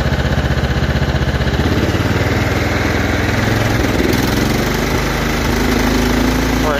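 A Kohler Power Plus 17 engine runs rough, its close, loud mid-pitched drone pulsing unevenly and hesitating as it comes back up from idle, with no talk over it.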